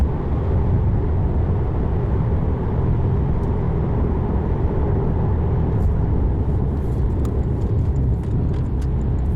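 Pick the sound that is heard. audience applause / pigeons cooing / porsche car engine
porsche car engine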